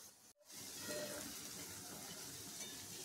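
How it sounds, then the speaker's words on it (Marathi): Fried paneer balls drop into a hot vegetable gravy for a curry, setting off a steady, close sizzle and hiss that follows a brief pause and holds evenly to the end, with no talk. "आता आपण यांना ह्या भाजी ग्रेव्हीत टाकून द्यायचं आहे."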